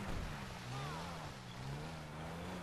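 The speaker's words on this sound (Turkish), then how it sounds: "Bu arada araçların motor sesleri de çok güzel ya." An off-road rally car engine in GTA 5 hums steadily at a moderate distance, its pitch rising and dipping slightly as the throttle changes, with a constant background wash.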